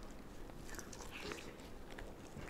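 Someone bites into and chews a margherita pizza at a pizza place in New York, soft close-up crunching and mouth sounds at low volume over faint room background, with no speech.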